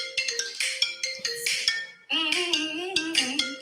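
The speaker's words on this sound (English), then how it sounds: "How do you hear the iPhone ringtone?" A bright, plucky iPhone ringtone plays its melodic pattern twice, the second pass richer and lower, chiming clearly with no talking.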